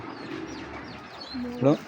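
A female pigeon gives a couple of low, soft coos close by while a person talks over it.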